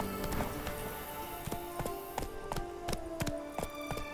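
Hooves trot in The Witcher 3: Blood and Wine, a regular clip-clop of sharp taps about every half second, close and clear, with a sustained tonal music bed underneath.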